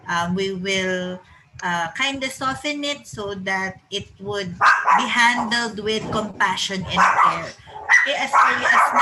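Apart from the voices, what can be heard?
dog barking in background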